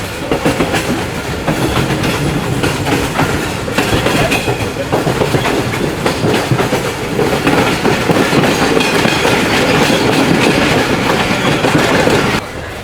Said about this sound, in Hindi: ये कराची की हसीन वादियों से ट्रेन गुजर रही है इस वक्त